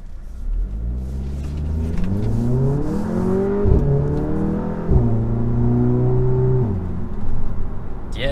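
An Audi with Haldex all-wheel drive, in sport mode with traction control on, accelerates hard nearby, its engine note rising through the revs with clear gear-change drops, loud and alone.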